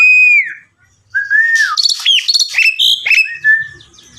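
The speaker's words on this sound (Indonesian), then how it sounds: "Ya Pak Haji, manuk saya jalak sungkop Pak Haji." Loud, close jalak sungkop starling calls: clear whistled notes followed by a jumble of rapid chirps, squeaks and warbles, with a short pause near the start.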